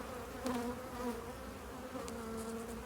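Dense, steady buzzing of many honey bees close by around their hives after sugar syrup feeding, a continuous droning hum with occasional louder passes.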